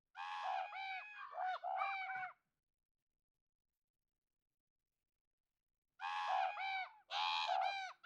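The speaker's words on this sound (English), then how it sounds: "We'll hear the crows start to spawn around the player." Crow calls spawned around a player in an Unreal Engine game ambience built with Wwise: two bursts of repeated harsh cawing, close and loud, separated by several seconds of silence.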